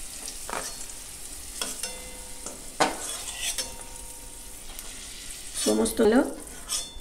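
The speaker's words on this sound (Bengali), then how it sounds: "দেখুন, বিনস আর গাজরগুলো সব ভাজা হয়ে গেছে" Beans and carrots frying in hot oil in a pan, a continuous close sizzle broken by scraping stirs and clinks of a metal spoon against the pan, with a louder burst of stirring near the end.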